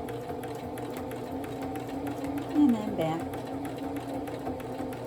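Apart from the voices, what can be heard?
sewing machine humming while stitching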